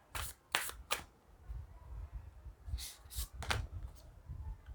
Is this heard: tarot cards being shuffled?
yes